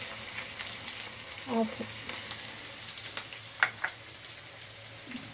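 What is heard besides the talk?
green chillies and onions frying in hot oil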